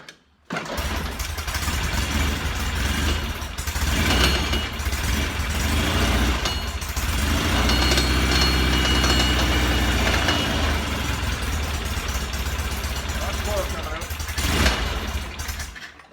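A Norton Commando 750 motorcycle engine starts and runs steadily after a shot of gas, a loud close rumble holding for about fifteen seconds with a brief throttle rise near the end.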